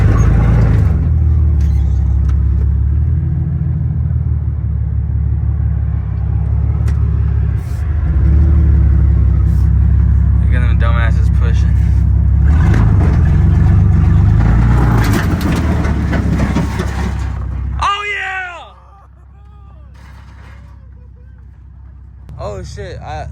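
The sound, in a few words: truck engine revving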